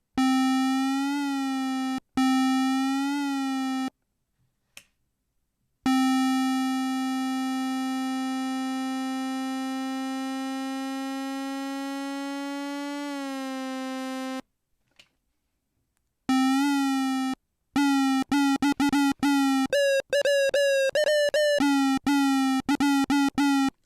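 Bright LayR synth oscillator tones with buzzy harmonics sustain and bend in pitch under a modulation envelope, broken by silences, then dissolve into a rapid run of short choppy blips.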